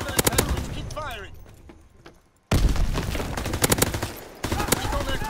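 Dense automatic gunfire and booms fill a war video game battle, with rapid bursts of shots that drop briefly to near silence before resuming at full loudness, and a voice shouting over the din.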